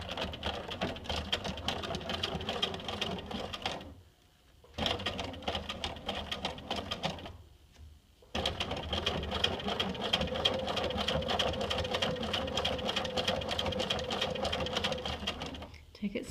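A sewing machine stitches binding onto a quilt, running in steady whirring bursts with two short pauses, while a person talks over it.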